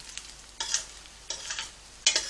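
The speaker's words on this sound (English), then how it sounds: "Just fry that off." A whole clove of peeled garlic frying in hot oil in a pot, heard as short sizzling bursts that swell each time it is stirred, close and fairly loud, with no talking.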